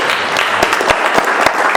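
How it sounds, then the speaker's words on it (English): An audience at a political meeting against imperialism gives a steady round of applause, with dense, even clapping throughout and a few sharper claps standing out, heard on its own without talk. "Let's give these two guys a nice round of applause"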